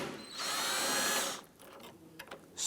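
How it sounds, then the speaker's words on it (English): Power driver with a T30 bit backing out a tailgate bolt on a 1997-2006 Jeep Wrangler: a short, fairly quiet high whine lasting about a second, followed by faint clicks and handling noises. "We're going to use our T30 and remove this bolt here."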